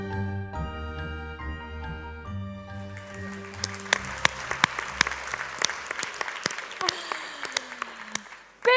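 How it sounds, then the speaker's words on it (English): A few seconds of bright musical tones give way to an audience at a Roald Dahl Day baking event breaking into applause, with sharp individual claps standing out from the crowd. "Big round of applause for Justin, who is in our audience"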